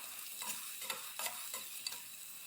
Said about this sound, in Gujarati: હવે તેમાં કાપેલી ડુંગળી એડ કરી લઈશું। ત્યારબાદ કાપેલા ટામેટા અને કાપેલા